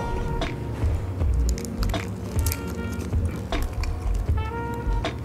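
Repeated crunchy bites and wet chewing of a Korean sandwich packed with fresh vegetables, close up, in irregular crisp bursts with background clatter.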